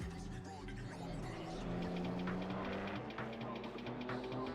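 A sim racing game race car engine drones steadily at low volume, its pitch rising and shifting between gears, with a faint voice over it.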